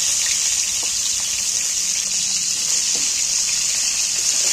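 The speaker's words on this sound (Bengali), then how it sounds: "এইবার তেলের মধ্যে ভালো করে কম আঁচে, কম জাল দিয়ে ভালো করে পটলগুলোকে ভেজে নিব।" Cut pointed gourd (potol) frying in oil over low heat, a steady broad sizzle holding evenly throughout, close and fairly loud, with no talking.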